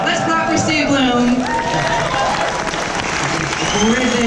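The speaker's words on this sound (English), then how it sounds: "Let's clap for Steve Bloom." A convention crowd at BlizzCon 2016's voice actor stage applauds, a continuous wash of clapping running beneath a loud voice talking over it throughout.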